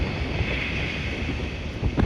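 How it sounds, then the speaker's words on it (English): Outdoor wind gusts buffet the microphone in a steady, loud rumble with hiss, rising briefly near the end, with no voices. "Getting a little windy."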